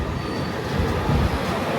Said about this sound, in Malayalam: നമ്മുടെ മംഗലാപുരം തിരുവനന്തപുരം സെൻട്രലിലെ ഏർനാട് എക്സ്പ്രസ് ആണ് കേട്ടോ.